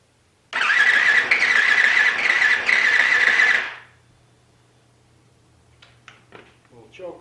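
A Yamaha WR450F dirt bike with a GYTR programmable ECU cranks with a loud, harsh starter whir for about three seconds and then cuts off, followed by quiet clicks and handling sounds close by.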